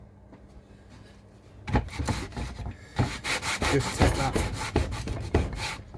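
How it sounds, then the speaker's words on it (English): A sanding block rubs back and forth along the edges of small wooden parts for a model bridge diorama, giving repeated close, rasping strokes in an uneven rhythm, with one brief spoken word at the start. "So, hold my sanding block."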